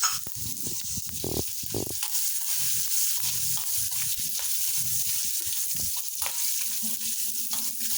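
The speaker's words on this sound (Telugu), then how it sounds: "ఇప్పుడు పోపు దినుసులు వేగుతున్నాయి కదా" Steady oily sizzling of tempering spices and green chilli pieces frying in hot oil, continuous and close, with occasional crackles and a few spoon stirs.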